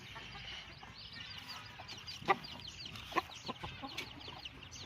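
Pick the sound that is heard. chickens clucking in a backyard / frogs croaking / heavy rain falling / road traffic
chickens clucking in a backyard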